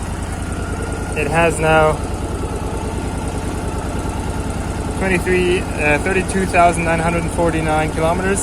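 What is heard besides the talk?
Yamaha 1100 Drag Star motorcycle engine idling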